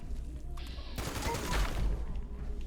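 Heavy weapon gunfire from the video game Fallout 76 rattles in a fast continuous burst, loud and dense, starting abruptly about one second in and holding steady to the end.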